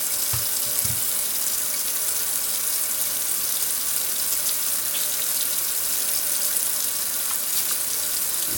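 Water runs steadily from a tap during handwashing with homemade liquid soap, a continuous close hiss that fills the whole stretch with no talking.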